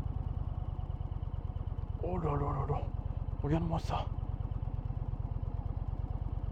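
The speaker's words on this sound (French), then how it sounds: "Oh, 1000 tours minute, ça passe." An Indian Challenger tractor engine turning at about 1000 rpm, a steady low rhythmic thumping close by that holds an even idle-like pulse, with a man exclaiming excitedly over it partway through.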